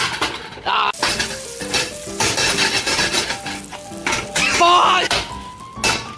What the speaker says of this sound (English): add sizzling sound effects